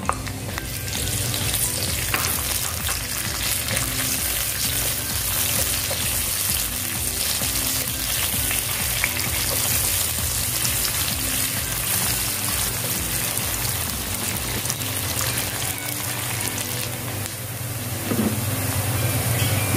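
Onion frying in oil in a home kitchen pan gives a steady, dense sizzle that runs unbroken and fairly loud for the whole stretch, with faint scrapes of stirring and no voices.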